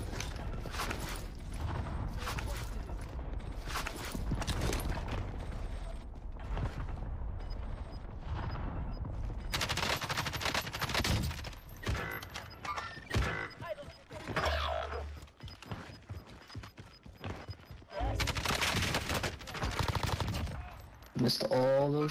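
Rapid gunfire bursts and single shots from the Call of Duty: Warzone battle royale game on Rebirth Island, loud and repeated in clusters, with someone talking over parts of it.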